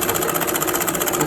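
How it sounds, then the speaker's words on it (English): A sewing machine stitching cargo pants runs in a fast, steady whirring chatter of needle strokes, loud and close, with no pause and no talking. "sew it the way I am sewing"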